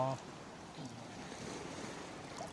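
Sea waves washing on a beach, a soft, continuous surf wash with wind noise, fairly faint and steady, with a voice heard faintly over it.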